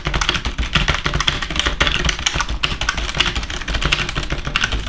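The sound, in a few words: typing fast on a computer keyboard in a speed test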